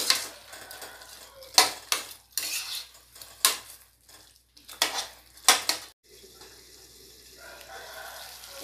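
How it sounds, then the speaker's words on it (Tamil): Ginger garlic paste sautéed in a pan for spicy green chicken, a spoon clattering and scraping against the metal in several sharp bursts with quieter stirring between, then a soft low sizzle trailing on alone. "இதோட பச்சை வாசம் போகிற வரைக்கும் நம்ம நல்லா வதக்கிக்கலாம்."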